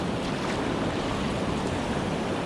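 Whitewater rapids rush past a canoe on a solo wilderness trip in Quetico, forming a loud, continuous broadband roar of churning water with no break across the whole stretch.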